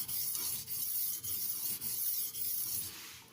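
A steel blade is stroked across a Haidu HCJ-S/HCJ-H aluminium oxide sharpening stone of FEPA 1500 / JIS 6000 grit, giving a continuous close abrasive rasp broken by brief pauses into about six even back-and-forth strokes.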